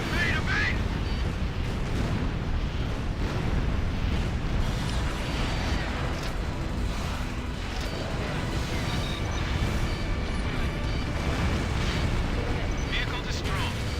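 A missile launches and explodes in a flying combat video game: a dense, continuous roar of rumbling blasts and bursts that runs the whole time, with a voice faintly present underneath.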